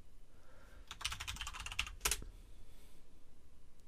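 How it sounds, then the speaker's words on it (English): Quick bursts of key presses on a computer keyboard as a password is typed, a run of rapid clicks followed by a sharper final keystroke, close and clear over a quiet room hum. "I just need to type the password in properly."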